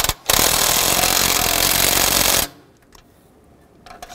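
Power tool tightening water pump bolts on a 2010-2017 Chevrolet Equinox, a loud close buzzing burst lasting about two seconds, then stopping, followed by a few faint clicks.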